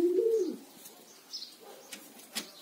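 Pigeons in flight, with one clear coo near the start followed by softer chirps and a few faint wing flutters, close and alone.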